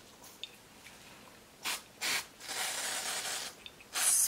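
Several short aerosol bursts of temporary hair colour spray on natural hair, then a longer hissing spray and another burst, close by and fairly quiet.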